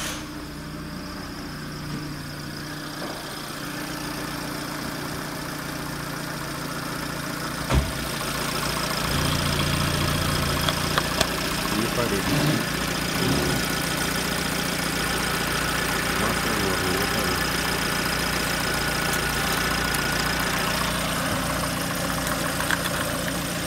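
A Peugeot 307 1.6i petrol engine, TU5JP4, runs steadily at a smooth idle with a close, even hum, rising briefly as it is revved partway through, then settling back, with no talk.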